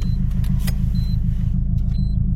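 A Subaru Impreza WRX STI with a flat boxer engine idles on a turbo timer, a steady, close, loud low rumble with an even pulsing beat and a few faint clicks above.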